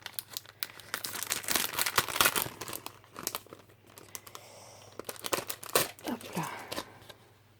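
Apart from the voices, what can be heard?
opening a plastic-wrapped package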